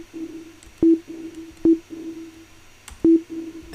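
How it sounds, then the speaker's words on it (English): A short electronic tone in Ableton repeats with a delay and reverb effect, three sharp hits each followed by fainter sustained echo trails fading in a quiet background. "So you can kind of hear that delay."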